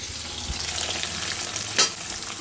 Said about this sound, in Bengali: আমি আলু দিয়ে দিয়েছি তেলের উপর, এখন ভাজা ভাজা হচ্ছে।